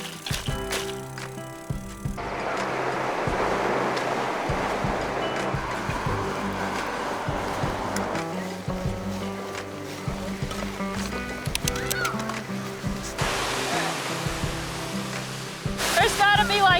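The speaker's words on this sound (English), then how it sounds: "Creek crossing at the ocean." Ocean surf and rushing creek water at a beach crossing on a bikepacking ride along the SF Peninsula, a steady loud wash with wind buffeting, bicycle rattles and occasional voices over it.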